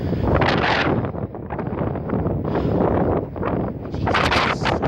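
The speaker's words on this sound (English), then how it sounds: "It's so windy. On this field, but on that one down there, it's so windy." Strong wind gusts across an open field, buffeting the microphone with loud, continuous roaring that swells and dips in waves and has no voices over it.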